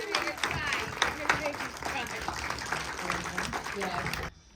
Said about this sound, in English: So round of applause for Jamillah.